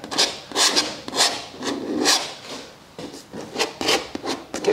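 A palette knife scrapes oil paint (yellow ochre, burnt sienna, ultramarine blue) across a palette in a studio, giving repeated close, rough scraping strokes in an uneven rhythm, with no voices.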